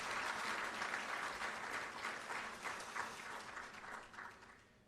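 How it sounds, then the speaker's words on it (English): Applause from the audience at the swearing-in ceremony of Ghana's Chief Justice, a thick wash of clapping that fades gradually over about five seconds, heard alone and somewhat distant. "Another round of applause, please."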